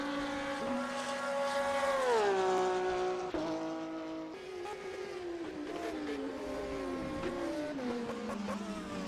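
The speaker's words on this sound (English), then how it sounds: "Van de Ven now finishing up his pit stop, coming back out on track in the 7th position." GT3 race cars at Road Atlanta scream past with rising and falling engine pitch, one car's Doppler sweep dropping as it passes, then others following at moderate distance in a continuous layered roar.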